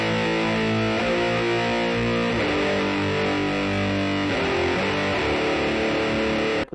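An electric guitar plays with high-gain distortion through a Quad Cortex, strumming thick sustained chords that change every second or so. The sound is loud, steady and alone, then cuts off sharply at the end.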